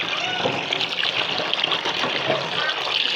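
Water running steadily while small fish are washed, close up with a constant splashing trickle, and a voice talking briefly underneath.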